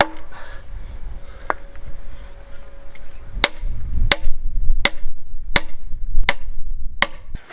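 Sharp, ringing strikes of a metal bar splitting green wood, about eight blows in a steady rhythm growing more regular, with a low rumble between hits.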